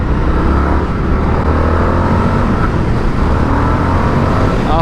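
Indian FTR Championship Edition motorcycle engine pulling hard under throttle on a road ride, a loud, steady drone with a rising rev over about five seconds, no talk over it.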